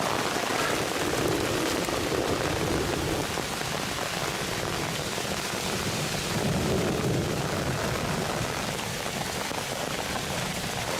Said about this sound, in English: I'm right below a cloudburst.